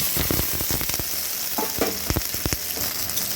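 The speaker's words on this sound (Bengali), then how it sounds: "এবারে এটা একটু লাল করে ভেজে নেব যতক্ষণ না রসুনের কাঁচা গন্ধটা যাচ্ছে" Chopped garlic, onion and green chili fry in hot oil, giving a steady loud sizzle broken by repeated scraping and stirring knocks of a spatula against the pan. No one speaks.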